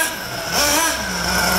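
A nitro RC car engine idles and revs nearby while being fine-tuned, still a little cold. It gives a loud, steady high-pitched buzz that swells midway and then holds, with no talk over it.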